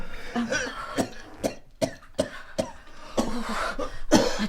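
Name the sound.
cough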